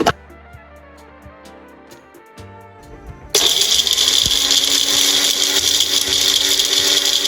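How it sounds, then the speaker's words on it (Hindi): A few light clinks in near quiet, then a mixer grinder switches on, grinding spices finely with a loud, steady, high whirring roar that continues to the end. "अब सभी चीजों को मिक्सी से महीन पीस लेते हैं।"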